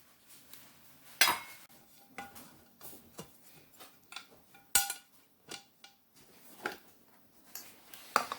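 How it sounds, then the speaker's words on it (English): A pumpkin cake is worked out of a metal bundt pan in a home kitchen, with a series of close metallic taps, clinks and knocks spaced irregularly over quiet background. "let's get it out of the bundt pan, even though it's still a little bit warm"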